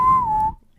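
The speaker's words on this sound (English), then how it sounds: "I love the whistle" A single sustained whistled note, close and clear, gliding slightly downward before cutting off after about half a second.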